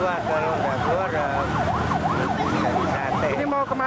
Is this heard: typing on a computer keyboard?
no